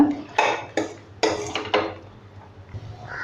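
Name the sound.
stirring mutton bones into masala in a cooking pot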